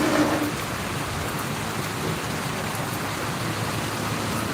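Rain pours down in Lopez, Quezon, a dense, even wash of hiss with a low rumbling undertone that holds steady throughout.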